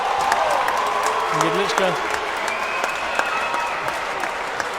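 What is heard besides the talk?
GB crowd cheering at a dodgeball match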